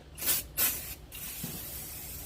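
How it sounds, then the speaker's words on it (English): Two short bursts of aerosol cleaner spray hiss close by onto a grill, then a third quieter spritz after a pause, with faint handling noise between. "then we'll spray her down"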